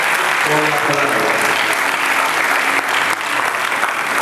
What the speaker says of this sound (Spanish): Den el aplauso una vez más al Señor por la palabra